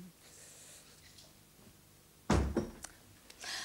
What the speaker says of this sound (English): When he goes out, he slams the door.